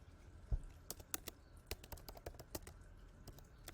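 Soft, close keystrokes on a computer keyboard as an email address is typed, coming as irregular taps and small bursts with one sharper knock near the start, all at low volume with no voices.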